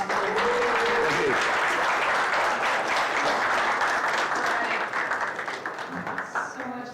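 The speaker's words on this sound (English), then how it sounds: "Let's give another round of applause." Sustained applause from an audience at an entrepreneur event, dense and steady for most of the clip, then thinning toward the end, with some voices mixed in beneath the clapping.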